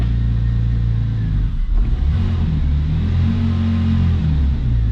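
A 2004 Porsche 911 Turbo with a ripped-off exhaust pipe runs loud and close, its deep rumbling idle swelling into revs, a brief dip near the middle before the engine picks back up.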